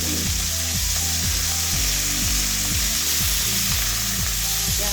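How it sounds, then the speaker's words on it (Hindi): Loud, continuous sizzling of chicken and garlic frying in a pan, close up, with a low rhythmic knocking running underneath. "अब गार्लिक और चिकन को यहाँ अच्छी तरह मैंने भून लेना है।"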